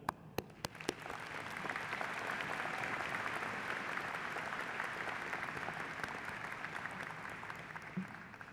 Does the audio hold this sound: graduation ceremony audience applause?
yes